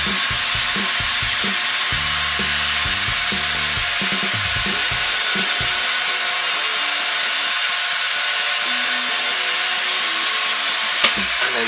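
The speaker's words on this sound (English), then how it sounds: "speed the lathe up a touch" Wood lathe spinning an 11-inch sycamore bowl as a towel buffs the surface, a steady broadband whir with rubbing and scraping contact in the first half, smoothing to a continuous hum, then a sharp click near the end.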